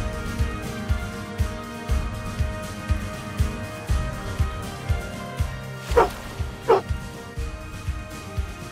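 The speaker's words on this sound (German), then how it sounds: "Ja, wow, was für ein schöner Hund." A trained film dog gives a run of rhythmic, fairly close barks and yips, regular pulses through the whole stretch, with a couple of sharper, higher whimpering yelps near the end.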